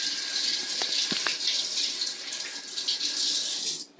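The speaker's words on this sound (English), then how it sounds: "So I'm going to go ahead and rinse my hands off here." Water runs steadily from a kitchen sink tap as hands are rinsed beneath it, a close, continuous splashing hiss with a few small drips and knocks, cutting off at the end.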